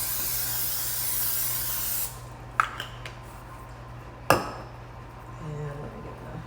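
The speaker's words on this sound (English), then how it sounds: "I'm just going to spray it with some Pam" A short, loud hiss of Pam cooking spray into a casserole dish lasts about two seconds, followed by a couple of sharp clinks of the dish being set down.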